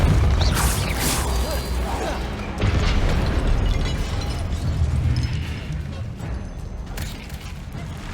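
A Repulso spell cast in Hogwarts Legacy lands as a booming, mechanical burst within a dense, loud wash of game effects and music, with broadband surges repeating across the stretch.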